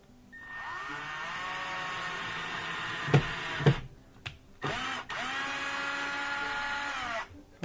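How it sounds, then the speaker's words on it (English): Power drill whirring steadily as it drives a Phillips head screw into particle board, close and fairly loud, with a couple of sharp knocks midway, a brief pause, then a second sustained run. "I'll just put in those 4 Phillips head screws. I'm just going to start the first screw."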